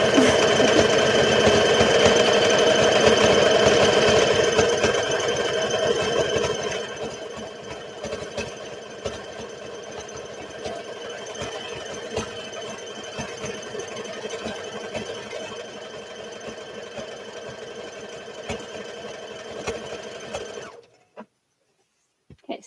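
A sewing machine stitches a garment from a Simplicity S8855 pattern with a continuous, close, rattling hum that runs loud for several seconds, eases slightly, and carries on steadily before stopping abruptly near the end.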